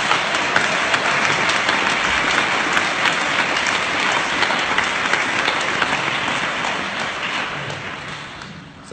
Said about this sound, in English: So a round of applause for Georgina.